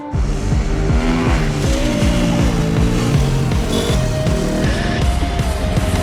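A supermoto motorcycle accelerates hard on a race track, its engine loud and close, revving and climbing through gears in a continuous buzzing roar with brief drops at each shift.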